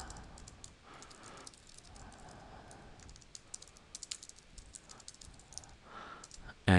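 Someone types an email on a computer keyboard, producing a quick, uneven stream of close, light key clicks, with no talking.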